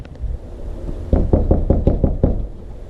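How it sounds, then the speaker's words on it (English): Seven sharp knocks on a door in quick succession, loud and close, following a brief stretch of quiet background noise. "let's knock on the door, see if he's here"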